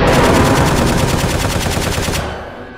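Rapid automatic gunfire from a gun in an animation, a loud, close, evenly pulsing burst lasting over two seconds before cutting off into a fading tail, with no talk.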